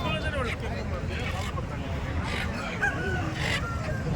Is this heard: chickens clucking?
yes